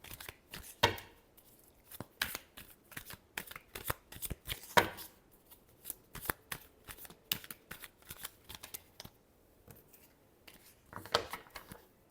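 Tarot cards are shuffled by hand in repeated quick riffles and soft slaps, a rapid irregular flutter of papery bursts that comes close and quiet against near silence.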